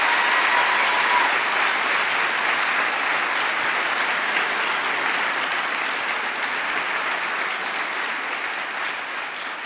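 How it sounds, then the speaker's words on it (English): Sustained applause from an awards-ceremony audience at a college event, steady and dense throughout, tapering slightly toward the end, with no talk over it. "Would you please join me in one more round of applause for this amazing"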